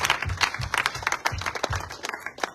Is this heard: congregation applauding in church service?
yes